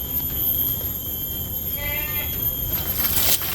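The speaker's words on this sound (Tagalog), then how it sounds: "Ang ingay ng kambing na yan." A goat bleats a few times amid steady background noise, the wavering cries rising briefly near the middle and again toward the end.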